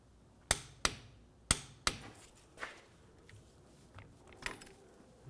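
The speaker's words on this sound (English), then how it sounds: "we're gonna torque this to 40 foot-pounds" A torque wrench set to 40 foot-pounds tightens the rear wheel lug nuts on a 2004-2009 Audi A4 Quattro, giving four crisp, close clicks in quick pairs, then fainter knocks and clatter.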